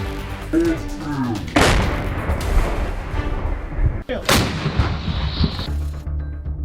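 An L119 howitzer fires in the field, with two sharp, heavy booms a few seconds apart that ring out and decay amid a rumbling outdoor background.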